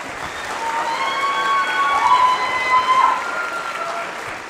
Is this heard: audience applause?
yes